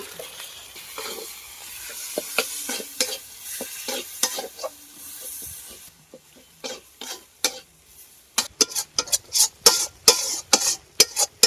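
Salt, ground cumin and Kashmiri chili sizzle as they are stirred in a pan for a vegetarian lentil-dumpling curry, with a steady frying hiss at first, then a quick run of loud spoon scrapes and clacks, close up, with no talking.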